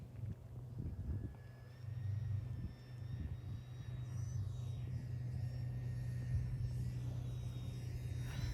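A 1.1 m RC Cessna 400 model airplane on a 3S battery passes at full speed, its electric motor giving a steady, fairly faint whine over a low outdoor rumble that continues throughout.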